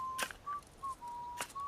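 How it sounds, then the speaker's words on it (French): A person whistles a thin, clear tune in short held notes and brief gaps, close and fairly quiet, with two soft scraping thumps in the background. "t'es en train de siffler"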